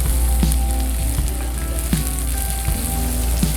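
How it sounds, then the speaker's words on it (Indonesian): Sliced cassava leaves stir-fried in a hot pan, a steady loud sizzle with occasional clicks of a utensil against the pan. "kita masukin daun singkong yang udah diiris tadi Sel. Biasanya di situ kita oseng-oseng"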